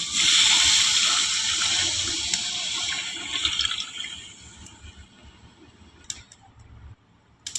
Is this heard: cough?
no